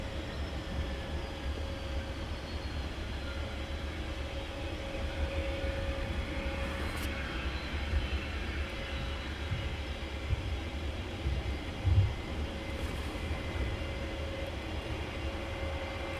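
An easyJet airliner backtracks along the runway at Luton Airport in the early morning, its engines a low, steady distant rumble with a faint sustained tone that holds throughout.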